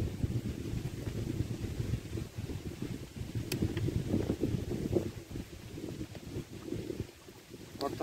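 Wind buffets the microphone in rumbling gusts outdoors, rising and falling loudly throughout.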